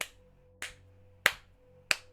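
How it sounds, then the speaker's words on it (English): Hands clap four times in a slow, even rhythm, each sharp clap spaced well apart and fairly quiet against a faint steady hum. "you hear like clapping"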